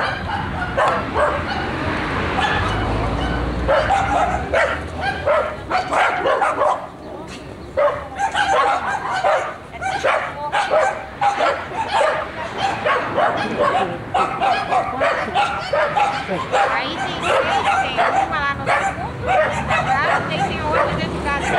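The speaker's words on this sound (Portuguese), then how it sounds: "É, quantos cachorrinhos, né?" Several small dogs bark and yip in a rapid, busy chorus on a street after rain, loud and close, with people talking and murmuring underneath.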